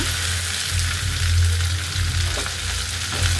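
Okra sizzles loudly in a kadai of hot oil with a green chilli and whole cumin seeds, a dense and steady frying hiss that continues close and alone throughout.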